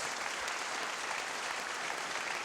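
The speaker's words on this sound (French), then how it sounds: "On peut effectivement l'applaudir." Audience applause at a public meeting, a steady, even roar of many people clapping together, moderately loud and continuous with no voices over it.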